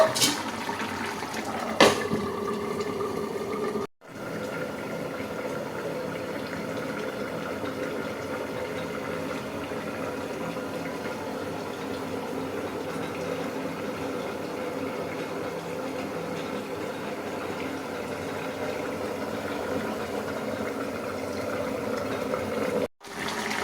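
Cauliflower and paneer curry simmering in a covered pot, a steady low bubbling hiss that runs on evenly, with brief clatters from the lid at the start and near the end.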